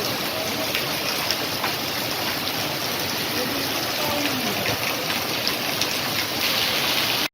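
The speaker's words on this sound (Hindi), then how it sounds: "बाहर भाई खतरनाक जोर से बारिश हो रहा है।" Heavy rain pouring down outdoors, a steady dense broadband hiss with no pauses, fairly close and continuous for the whole stretch, with no voices over it.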